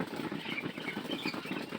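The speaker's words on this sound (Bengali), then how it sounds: "কি সুন্দর কবুতরগুলো, কি সুন্দর করে খাইতেছে দেখেন" Wings flap in quick repeated bursts among a flock of pigeons, with soft pecking and shuffling close by, no talking.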